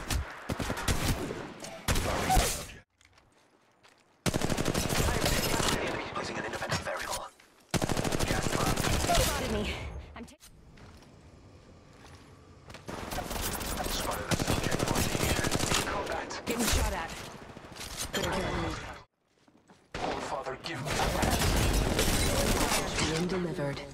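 Gunfire in Apex Legends: bursts of rapid automatic shots separated by short gaps and quieter stretches, mixed with game voice callouts.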